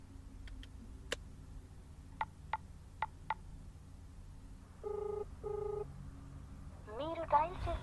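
A telephone number is dialed. A few sharp ticks and clicks are followed by two short keypad tones and then a brief ringing tone. All of it is quiet over a low background hum.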